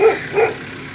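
Two quick barks from a nearby dog, then quiet background, outdoors in a flower garden at dusk.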